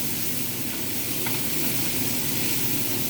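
Scrambled eggs with frozen cubed ingredients sizzle steadily in a frying pan, a continuous soft hiss with faint scraping as the mixture is stirred around, no voices.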